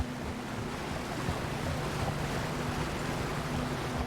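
River water in Red Dead Redemption 2 during a crossing, a steady rushing, surf-like wash with wind-like noise, even in loudness and heard alone without voices.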